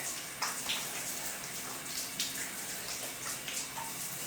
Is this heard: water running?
yes